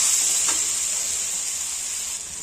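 Tomatoes and tamarind fry in a pan with a steady, close sizzling hiss that continues without a break, and no one speaks.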